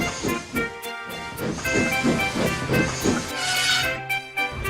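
Steam locomotive Stepney, the Bluebell engine, puffing in rhythmic chuffs with hissing steam, drawing one coach closer; regular beats sit over a low rumble, with a brighter hiss burst near the end.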